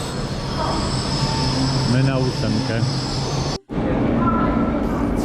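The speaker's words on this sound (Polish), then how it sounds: "Przyjechał. Super, super świetny chiński pociąg." A Chinese train pulls into a station, its rumbling wheels and rail noise loud and steady, with squeals in the middle, while people talk nearby; a sudden brief cut interrupts it before the rumble resumes.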